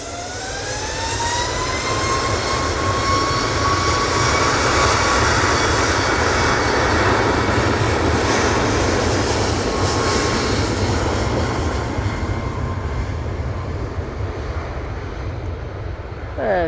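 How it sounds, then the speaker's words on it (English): A Ryanair Boeing 737 MAX 8 bound for Rhodes thunders past at Manchester Airport, a loud, sustained jet roar with a clear whine that slowly drops in pitch as it goes by. "we're going to stay on this Ryanair. Off to Rhodes, using the 737 MAX 8 for this flight."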